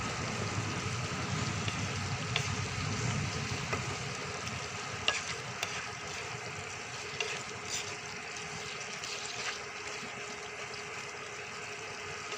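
Soybean curry sizzles steadily in a pan as it is stirred with garam masala, with soft scraping and occasional clicks of the spoon, close and continuous, no talk.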